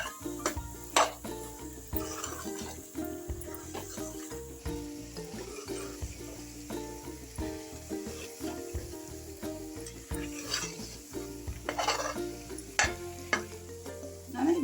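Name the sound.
masala frying in a pan for ivy gourd curry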